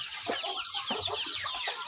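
Chickens cluck and chatter busily in a poultry farm pen. The calls are close, overlapping and continuous, with no talking.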